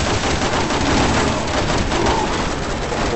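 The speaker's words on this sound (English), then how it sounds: "Keep shooting in the face." Sustained rapid gunfire from the video game Resident Evil 6, a loud dense stream of shots and blasts filling the whole stretch without a break.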